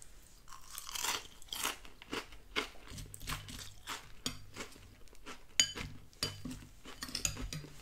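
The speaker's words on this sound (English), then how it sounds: "Even with the milk, this is such a crunchy cereal." Cinnamon Toast Crunch cereal in milk being eaten up close, with repeated crisp crunching bites and chewing plus light spoon clinks against the bowl, quiet and intimate with no voices.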